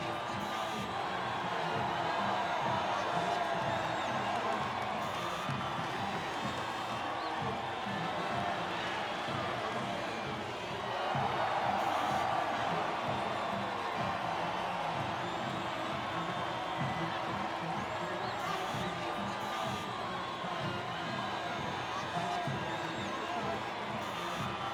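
Crowd applause and cheering at the Miami Grand Prix podium in Formula 1, a broad continuous roar with whoops that swells around the middle, heard at a distance.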